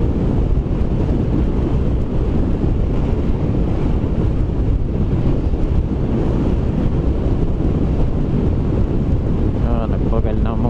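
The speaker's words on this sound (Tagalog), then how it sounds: "Naririnig ko yung tunog ng hangin sa helmet" Constant loud wind buffets a motorcycle helmet as a scooter rides along an open road, a heavy roaring rush that never lets up, with a voice faintly under it near the end.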